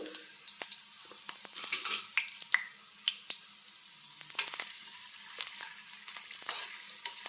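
Garlic cloves fry in hot tempering oil for a coconut chutney, a soft steady sizzle broken by sharp pops, crackles and occasional utensil taps, fairly quiet and close, with no speech.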